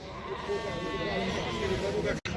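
Lambs bleat amid the bustle of a livestock market in Karabulak, Shymkent, their calls rising under nearly constant nearby chatter.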